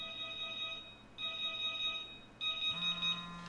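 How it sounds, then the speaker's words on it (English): A phone alarm rings inside a video game, sounding in three evenly spaced electronic bursts of bright repeating tones, fairly faint and with no talking over it. "that's a phone alarm"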